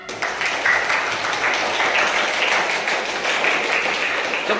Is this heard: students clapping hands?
yes